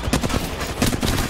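Rapid bursts of gunfire from a survival video game, loud and dense, with repeated overlapping shots crackling throughout a brief stretch and no voices.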